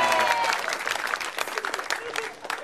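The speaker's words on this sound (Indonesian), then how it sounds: "baru tepuk tangan di situ." Audience applause at a televised Indonesian stand-up comedy competition, a dense burst of clapping that starts loud and gradually thins out, with a voice briefly heard at the start.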